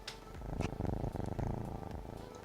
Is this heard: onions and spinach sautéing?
no